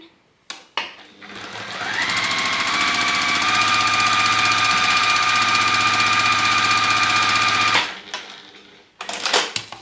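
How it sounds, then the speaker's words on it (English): Sewing machine running steadily while stitching quilt pieces of a beginner-friendly quilt in Corey Yoder's Coriander Colors fabrics, a loud continuous motor hum lasting about six seconds, with brief handling clicks before and after. "And we'll sew that one in."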